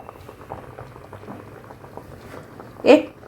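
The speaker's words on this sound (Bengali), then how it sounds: "একটু ফুটিয়ে নিচ্ছি বেশি না" A cream mixture for chicken bubbles gently in a pan, a soft low simmer with a steady patter over about three seconds, then one brief louder burst near the end.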